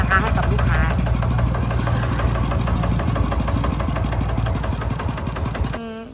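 A mid-sized engine idles loudly and steadily nearby with a rhythmic knocking chug, cutting out abruptly near the end.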